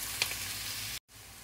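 Garlic and onion sauce sizzling steadily in a pan, a soft continuous hiss with a small clink, cut by a brief dropout before the sizzle resumes.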